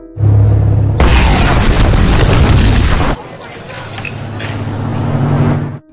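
A large explosion tears through a building in a film scene, a sudden loud blast erupting and roaring for about two seconds before settling into a heavy rumbling aftermath under a low background drone.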